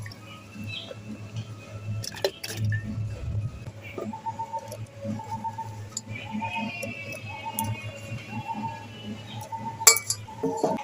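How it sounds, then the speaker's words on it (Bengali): Raw mangoes dropped into water in a glass jar for storing, giving scattered clinks, knocks and small splashy movements against a low background hum, close and fairly quiet with no one speaking. "এবার আমি আমগুলো জলের মধ্যে দিয়ে দেব।"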